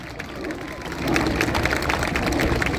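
An audience applauds Red Arrows pilots at the RIAT airshow at RAF Fairford, a broad wash of clapping that swells and continues steadily beneath a commentator's amplified voice.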